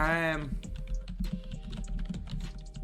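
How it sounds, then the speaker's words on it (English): Rapid clicking keystrokes on a computer keyboard, quick uneven taps up close following a brief burst of game sound at the start. "DBG is typing a 500-word essay right now."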